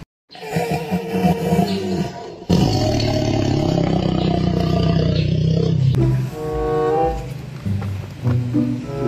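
A tiger roars loudly and at length among other animal sounds, with a sustained rumbling growl that swells and holds, fading briefly before resuming.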